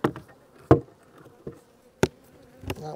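A low drone of honeybees hums close by in a pollination hive in California, broken by several sharp knocks and taps at irregular intervals.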